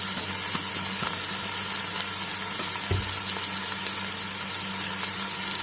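Ginger garlic paste frying in oil for a spinach and mutton saag gives a constant close sizzle and crackle, with a single dull knock from the pan partway through, and no voices.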